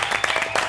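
A studio audience on an Argentine TV talk show breaks into applause, a brief, dense burst of clapping over a faint voice.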